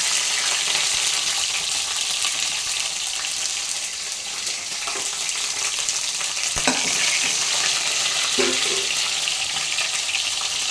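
Green chillies fry with mustard seeds in hot oil in a steady, loud sizzle that runs throughout, with a few brief clinks of stirring partway in and no speech.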